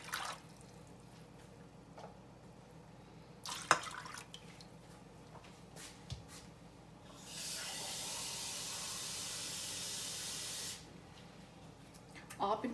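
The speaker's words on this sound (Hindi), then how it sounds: "इसके साथ मैं 3 ग्लास जो है वो पानी के डालूँगी" Water pours steadily from a glass into a saucepan for a few seconds, a broad rushing splash that starts and stops, with quieter kitchen clatter before and after.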